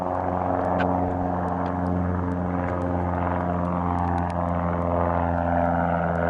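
Embry-Riddle propeller training plane flying overhead near Kingman, Arizona, a steady, even droning hum of the engine and prop that holds at moderate loudness throughout.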